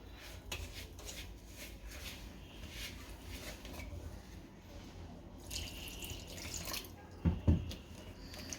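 Water pours into a bowl of gram flour, semolina and yogurt dhokla batter in a steady trickle, with a few louder splashes and knocks near the end.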